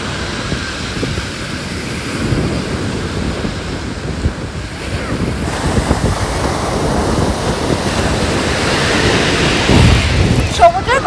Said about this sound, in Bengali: সমুদ্রের গর্জন শুনতে পাচ্ছ?